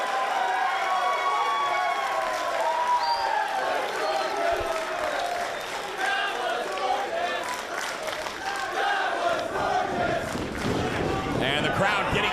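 A wrestling crowd at an independent event cheers and shouts in a steady, roomy roar, with a commentator talking over it and a swell of noise near the end.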